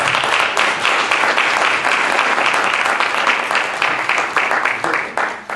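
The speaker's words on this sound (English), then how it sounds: "Calhoun a rousing round of applause." A sustained, loud round of audience applause for Dr. Calhoun at a College of Liberal Arts event, thick crowd clapping throughout that starts to thin and break into separate claps near the end.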